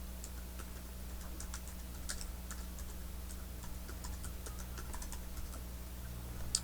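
Rapid, irregular keystrokes on a computer keyboard as a folder name is typed into document management software, crisp clicks over a low steady hum, close and fairly quiet with no voices.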